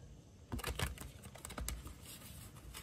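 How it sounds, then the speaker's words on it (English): A quick run of dry, papery riffling and soft slaps as tarot cards are shuffled, several bursts close by, then fainter light rustling. "Let's do some shuffling, of course."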